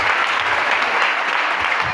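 A church congregation bursts into loud, close applause, dense and continuous clapping filling the room throughout.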